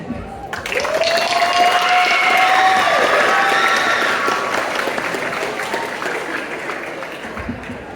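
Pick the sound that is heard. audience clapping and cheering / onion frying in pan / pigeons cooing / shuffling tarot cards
audience clapping and cheering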